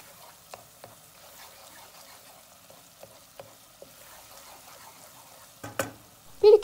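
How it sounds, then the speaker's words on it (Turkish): Onions sauté with tomato paste in a pan, faint soft sizzling with occasional light stirring scrapes, growing a little louder near the end. "Biraz da salçayla kavuracağım."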